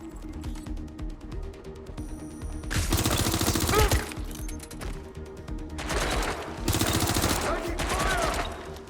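Bursts of gunfire in the Watch Dogs Legion video game, loud rattling volleys from about 3 to 4 seconds and again from 6.7 to 8 seconds, set against steady game music and ambience.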